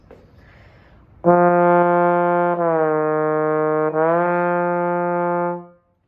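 A trombone holds a steady, loud tone, then slurs twice to new pitches on the same partial, the tongue and slide out of step so each change smears and blips, played alone for about four seconds.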